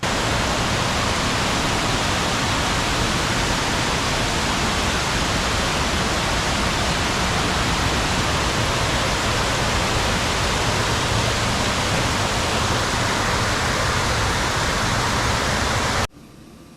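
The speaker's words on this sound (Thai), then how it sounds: "นี่เป็นชั้นที่สามของน้ำตกตาดกวางสีแห่งนี้" The third tier of Tat Kwang Si waterfall roars steadily and loudly, a continuous rushing wash of water with no voices, ending abruptly.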